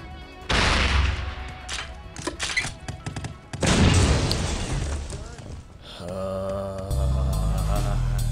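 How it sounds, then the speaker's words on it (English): M79 grenade launcher fired in the game Postal 2, heavy booming blasts with roaring explosion tails in two loud bursts, followed by a calmer stretch of game sound. "M79 grenade launcher."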